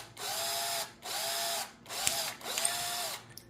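Power drill boring holes through a soft aluminum spoon lure, heard as four separate whining bursts, each under a second long, with brief pauses between them and a small click near the end.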